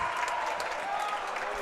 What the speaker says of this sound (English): And the crowd erupts along with the Hornet bench.